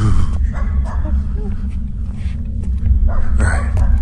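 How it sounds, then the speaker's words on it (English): A dog barks repeatedly at a moderate distance outside a house, sharp yapping bursts rising over steady low background rumble, with muffled voices faintly present. "that dog is still barking"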